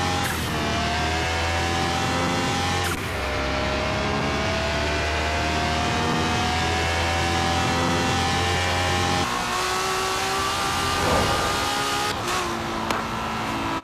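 Cars in an open-world racing video game drive with sustained engine drone and shifting revs, punctuated by gear-change breaks and brief tire noise, loud and close throughout.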